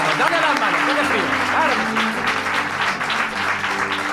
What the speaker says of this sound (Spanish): Aplaudir a Juan Ignacio Cuesta también.